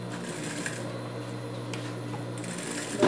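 A sewing machine stitches trim around the edge of a comfortable dog shoe made like a Brazil football boot, running as a steady, close, continuous whir for about three seconds, with no voices.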